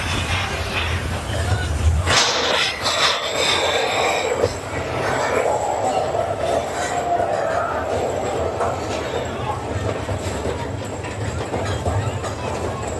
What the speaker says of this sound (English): It's like a mine train that goes like a bat out of hell!